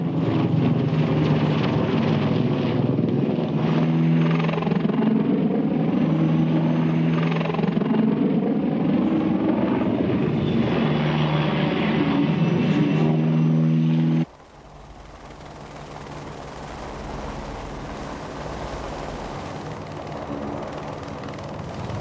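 An Apache attack helicopter flying low roars close by with a loud, steady rotor thrum, then the sound abruptly drops to a quieter, more distant rumble.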